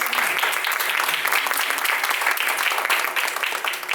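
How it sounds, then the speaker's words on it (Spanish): Steady, dense applause from a large conference audience, loud and continuous throughout with no talking over it. "Un aplauso"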